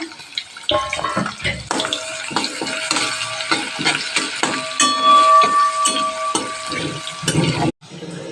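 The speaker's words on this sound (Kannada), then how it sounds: "ಇವಾಗ ಬೆಳ್ಳುಳ್ಳಿನ ಹಾಕೊಳ್ತಾ ಇದ್ದೀನಿ" Crushed garlic dropped into hot oil with cumin in a pan for a fenugreek-leaf stir-fry, setting off loud close crackling and sizzling with repeated stirring scrapes, then cutting off abruptly near the end.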